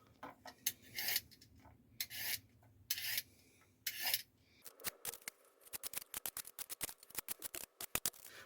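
Carrot being peeled with a vegetable peeler, close and crisp: slower rasping strokes at first, then a quick run of short scraping strokes, no talking.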